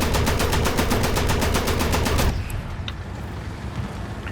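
Flakpanzer IV Wirbelwind anti-aircraft guns firing in War Thunder, a rapid, loud, evenly spaced burst of cannon shots for about two seconds, then a quieter rumbling tail with distant scattered pops.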